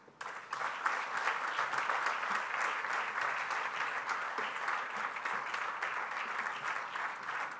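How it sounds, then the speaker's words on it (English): Sustained audience applause in an auditorium after a memorial oration, steady dense clapping from many hands lasting throughout with no talk over it. "I think this presentation deserves a huge, huge round of applause."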